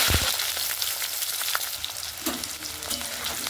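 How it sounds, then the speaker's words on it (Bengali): Steady, crackling sizzle of potatoes frying in hot oil, close and continuous, with a few sharper pops and a brief stir near the end. "এবার আমি লাল লাল করে ভেজে নেব"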